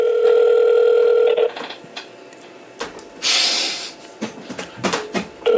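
Steady telephone dial tone fills the first second and a half, then breaks into a run of short, uneven dialing blips and clicks, close and clear.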